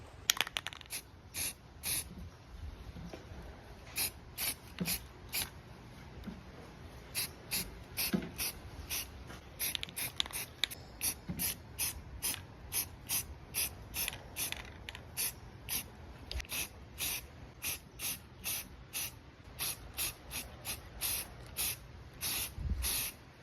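A spray can of primer being sprayed onto a Miata dashboard, in repeated short hissing bursts with brief gaps, steady and close, with faint mechanical rattles between bursts and no talk.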